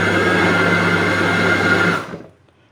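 An electric hand mixer beats a first cup of flour into chocolate cake batter with a loud, steady whir, then switches off and winds down to near silence.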